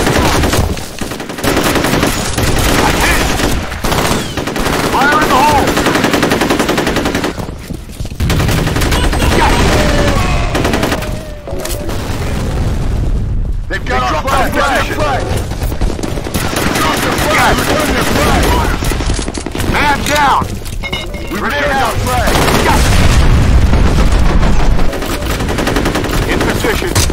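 Sustained heavy automatic gunfire and bursts in the shooter game F.E.A.R., with a grenade thrown mid-fight; loud, dense and continuous throughout, with brief lulls and a surge of blasts near the end.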